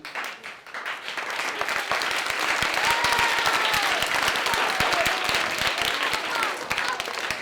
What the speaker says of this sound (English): right when we walked in, they all started clapping.